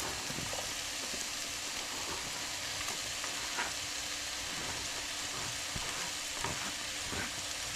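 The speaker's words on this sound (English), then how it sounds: "I'm going to push the peppers in here." Peppers sizzle steadily in a frying pan alongside onions and ground meat, a constant hissing crackle with occasional soft scrapes and pops, fairly quiet and close with no voices.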